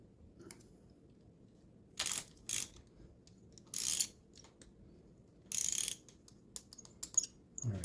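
Ratchet wrench clicks in several short bursts while tightening on a Chevy L48 small block engine, close and distinct against a low background hum, with small metallic clinks between.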